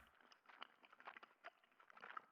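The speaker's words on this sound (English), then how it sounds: "I hear a noise like someone chewing gum from the other end of the phone." Someone chews gum over a phone line in the video game Death Mark, faint, soft, wet irregular smacks and clicks for about two seconds, ending in a sudden louder thump.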